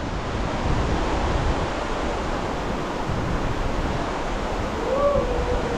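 Strong current of a clear, cold mountain river rushing in a steady, loud, unbroken roar that fills the whole clip, with no voices.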